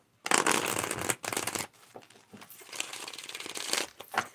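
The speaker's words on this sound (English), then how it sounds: "that was a beautiful shuffle" A deck of tarot cards is shuffled by hand in several close, crisp riffling bursts with short pauses between them, and no voices are heard.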